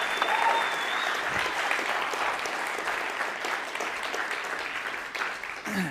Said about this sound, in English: So I thought we'd give a round of applause for that